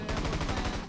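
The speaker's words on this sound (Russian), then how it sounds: "У него пулемет." A helicopter-mounted machine gun fires in GTA San Andreas, a fast continuous stream of loud, dense shots under steady engine noise for about a second.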